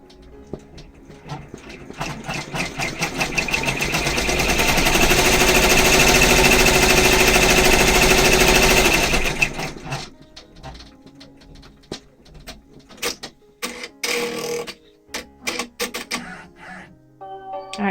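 An embroidery machine stitches an outline onto table runner fabric: a fast mechanical needle chatter builds loud and steady for several seconds, then stops, followed by scattered clicks and knocks.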